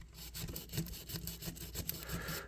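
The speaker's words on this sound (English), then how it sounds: "So let's just take a little bit of sandpaper here." Sandpaper rubbed against a vintage pen knife, a close run of quick back-and-forth gritty strokes repeating steadily for a couple of seconds, with no voices.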